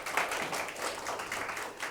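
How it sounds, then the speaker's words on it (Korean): Students in a Korean electronics class applaud a classmate, a soft, fairly distant patter of clapping from several people, steady and low in level for under two seconds. "박수 한번 쳐주십시오"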